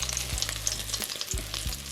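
Fish for Jamaican escovitch sizzles and crackles steadily in hot oil, close up, with a few soft clatters from stirring and no voices.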